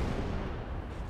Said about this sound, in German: Es sind einfach so viele Kanonen, die da auf einmal feuern.